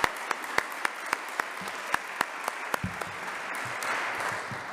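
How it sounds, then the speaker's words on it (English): Audience applause at a jazz vespers service, steady clapping from a crowd with a few sharper, closer claps standing out in a regular beat, continuing unbroken throughout. "So let's give him a round of applause."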